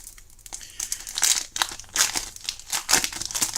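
Plastic wrapping torn and crinkled off a Pokémon card box, likely a Pokéball-style coffret, with steady close crackling and sharp tearing bursts over several seconds and no talk.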